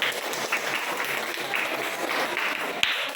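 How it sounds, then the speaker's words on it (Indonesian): A classroom of students applauds during a lesson, giving a dense, steady clatter of many hands for about three seconds, with one sharper clap near the end. "berikan tepuk"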